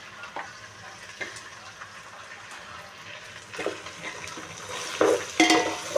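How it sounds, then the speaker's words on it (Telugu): Mutton and green chillies deep fry in a pan with a soft, steady sizzle, broken by a few louder crackles and stirring scrapes near the end. "బాగా బాగా డీప్ ఫ్రై చేయాలి పచ్చిమిర్చి"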